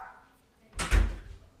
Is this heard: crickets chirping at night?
no